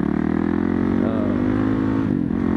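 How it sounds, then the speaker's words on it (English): A Husqvarna TE511 motorcycle engine runs loud and close during a test ride, a steady rough drone that dips briefly and then picks up again. "Today I'm riding the Husqvarna TE511."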